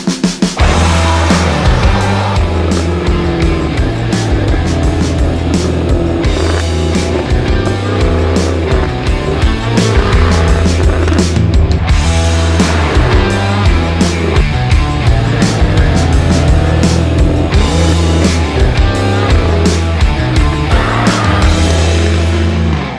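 A 2021 Jaguar F-Type P450 sports car is driven hard, its engine roaring loudly and continuously up and down through the revs at close range for over twenty seconds, with no talking.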